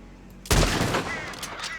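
A single loud gunshot from a hunting rifle in Red Dead Redemption 2, a sharp close blast with a long rolling echo fading out behind it, no talk over it.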